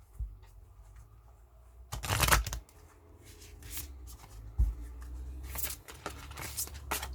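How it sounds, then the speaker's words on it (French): A deck of oracle cards is shuffled by hand, with several bursts of riffling and flicking at close range, including two louder flurries, with no talk. "alors je vais vous tirer une carte"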